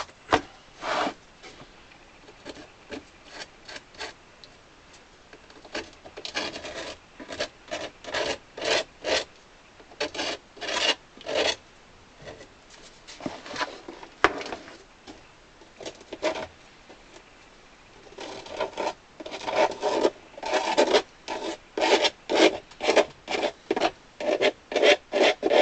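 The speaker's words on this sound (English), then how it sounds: "just use your blade to carefully scrape away any residue" A blade scrapes residue off the bellows of an 80-bass Paolo Soprani accordion, making close, dry rasping strokes in irregular bursts that grow quicker and louder toward the end.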